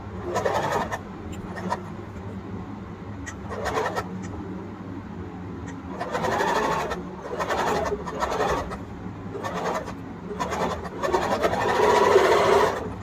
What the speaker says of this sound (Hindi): कर्व सीम के लिए हम स्टिच शुरू करते हैं इस तरह से, और जो ये कर्व का पोर्शन है हमें इस पोर्शन पे ही सिलाई मशीन को चलाना होगा।